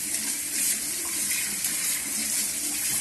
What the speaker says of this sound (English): Now we will wash it with hot water so that to clean it very nicely.